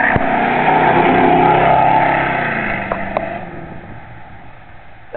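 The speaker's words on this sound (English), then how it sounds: "That was a 1970 Eldorado. 502 cubic inch engine, 400 horsepower." A 1970 Cadillac Eldorado with a 502 cubic inch, 400 horsepower engine accelerates past on Fairview Avenue, a loud, deep rising engine roar that fades into the distance, with a couple of short clicks.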